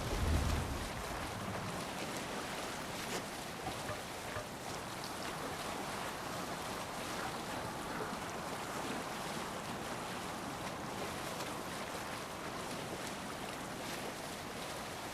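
A Viking longship sails over ocean waves in the video game Assassin's Creed Valhalla, a steady wash of water and wind rushing past the hull, constant and full with no voices.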